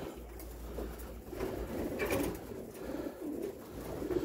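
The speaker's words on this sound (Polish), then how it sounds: "Zobaczycie teraz gołębia, który wczoraj wyprzedził całe stado o 7 minut." Racing pigeon cooing softly in repeated low throaty bursts at a loft, faint and close, with light rustling and handling noises around it.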